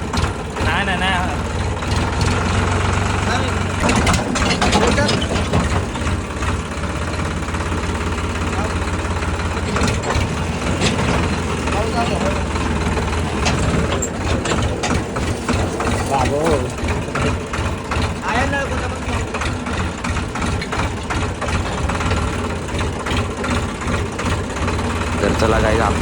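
A tractor engine runs steadily on a village farm, a loud continuous chugging drone that holds throughout while voices talk over it.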